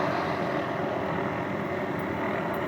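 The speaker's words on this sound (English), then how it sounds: "The big helicopter that's hanging there." A large helicopter hovers overhead near a fairground, its engine and rotor giving a loud, steady, dense roar with no break through the short clip.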